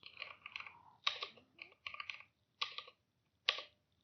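Code being typed on a computer keyboard, a few short clusters of crisp key clicks separated by pauses, close and quiet in an otherwise silent room.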